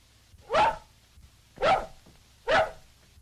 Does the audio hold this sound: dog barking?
yes